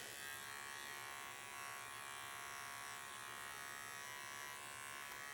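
Electric clippers buzz steadily and close up while trimming hair inside a dog's irritated ear, a continuous whirring hum with no talk.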